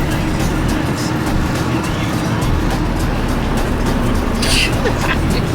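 Inside a converted camper van on the road: a loud, constant engine and road rumble with steady broadband roar, and brief rattles near the end.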